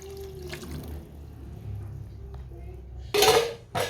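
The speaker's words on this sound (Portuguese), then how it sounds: "Agora é acrescentar a água." Water added to a cooking pot while baby food is prepared, heard as a faint trickle followed by two loud metallic clanks of the pot and utensils near the end, with no talking.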